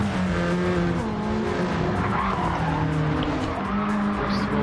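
Race cars sweep through the S corners in a GTCA championship semi-final, their tires squealing in a sustained, loud whine over steady engine drone.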